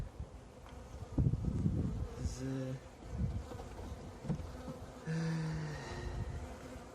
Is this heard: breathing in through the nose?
no